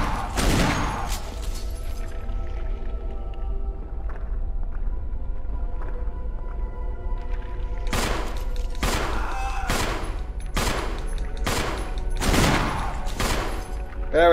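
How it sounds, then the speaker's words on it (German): Gunshots in the Resident Evil video game, a cluster of loud close blasts at the start, then a quieter stretch, followed by a run of heavy repeated shots spaced about a second apart. "Barry, schieß noch ein paar Mal."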